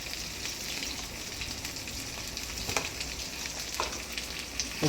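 Tomato with ginger garlic paste sizzles and fries in a pan for an egg gravy. The crackle is steady and moderately quiet, with a few faint stirring scrapes.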